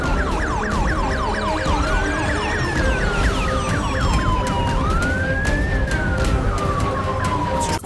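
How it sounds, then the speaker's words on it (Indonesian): A toy police patrol car gives off a loud electronic siren, rapid yelping wails that change into slower sweeping tones, continuous and close over a busy background of toy noise. "Wow, ternyata ini mobil patroli polisi."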